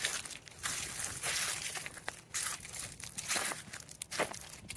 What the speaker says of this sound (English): Moving on, more leaves, more crunching.